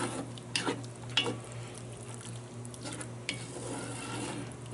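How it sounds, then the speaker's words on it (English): Ground turkey and green beans stirred together in a Dutch oven, a low steady sizzle broken by a few soft scrapes and clinks of the utensil against the pot, close by with no talking. "ground turkey back in there, and our green beans"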